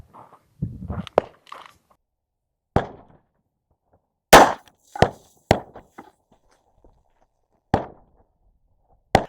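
Sharp shots from a Beretta 3032 Tomcat .32 pocket pistol fired at targets outdoors, about seven crisp bangs spaced irregularly, with brief quiet gaps and faint handling noise between them.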